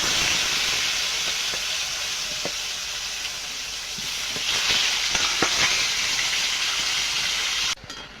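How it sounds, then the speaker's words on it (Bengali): Eggplant slices fry in hot oil for a home vegetarian meal, giving a loud, steady sizzle with scattered pops and light stirring scrapes. The frying cuts off abruptly just before the end. "বেগুনটা ভেজে নেব"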